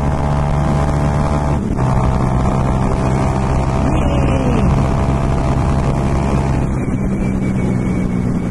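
A loud, steady Bajaj Dominar 400 motorcycle engine drone through an Akrapovic exhaust, with a low rumble, heavily buffeted by wind noise across the microphone throughout.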